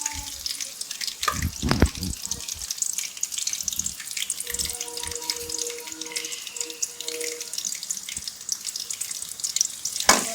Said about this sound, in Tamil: இதை நல்லா வதக்குறோம்.